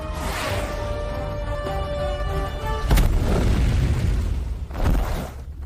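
A deep booming film explosion rings out amid dense cinematic rumble, followed a couple of seconds later by a second heavy impact; no talking.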